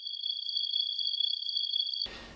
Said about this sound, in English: You can almost hear the crickets.